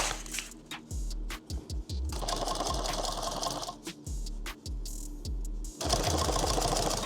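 Sewing machine stitching a shooting mat, close and loud, running in bursts of rapid mechanical thumping with brief pauses and clicks between runs.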